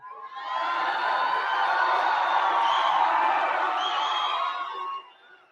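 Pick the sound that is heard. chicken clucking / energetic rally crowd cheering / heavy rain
energetic rally crowd cheering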